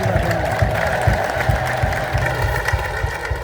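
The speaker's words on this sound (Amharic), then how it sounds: "ጭብጨባውም እልልታውም ሞቅ ደመቅ ነው።" A church congregation claps and ululates in celebration, a dense, steady mix of rhythmic clapping and high trilling voices that holds at moderate loudness throughout.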